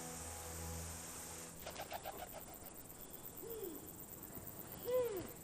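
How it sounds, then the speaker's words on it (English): In a kauri forest, a pigeon gives a couple of soft, low swooping calls over a steady background of crickets and insect buzz, quiet and somewhat distant. "That's a pigeon."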